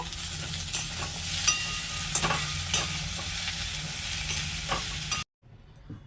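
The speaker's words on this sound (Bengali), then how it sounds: "সবগুলো উপকরণ ভালোভাবে মিশিয়ে নেব।" A potato and carrot cutlet filling with ginger-garlic paste and spice mix is stirred in a pan: a quiet hiss with regular scraping taps of the spoon, stopping abruptly near the end into near silence.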